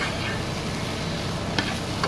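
A pan of southwest chicken mac and cheese bubbles with a steady low sizzle while being stirred, with a couple of faint utensil clicks near the end.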